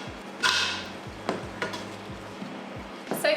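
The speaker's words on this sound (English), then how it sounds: "I'm just going to add a little bit of kale and just stir that through." A spoon stirs fresh kale through hot soup in a pot, giving several soft scraping strokes with a faint sizzle and brief clinks against the pot. No one speaks.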